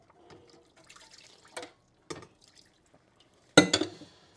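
Water from a pot is poured gently into a kitchen sink while dishes are being hand washed, making soft trickles and a few sharp splashes, with one louder pour near the end.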